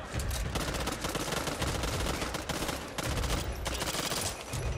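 Rapid automatic weapon fire from a shooter video game, dense and continuous bursts running almost the whole time with a brief dip near the middle, loud and close with no talk over it.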